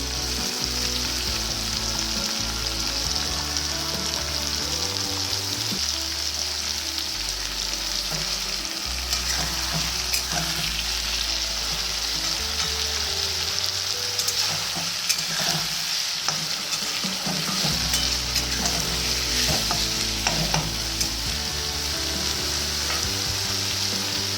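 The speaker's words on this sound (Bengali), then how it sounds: "টমেটোটাও আমি দিয়ে দিচ্ছি।" Tomato fries in a hot pan for a vegetable chilli, a loud continuous sizzle and crackle with intermittent stirring and scraping close by, no voices.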